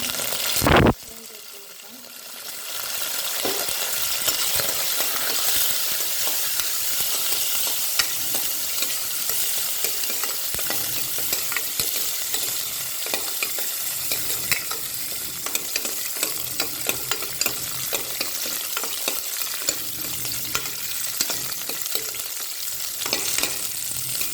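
Raisins and cashews frying in ghee in a pressure cooker for vegetable biryani, a continuous loud, close sizzle with frequent small spoon scrapes and stirring clicks, steady for the whole stretch after a brief quieter start.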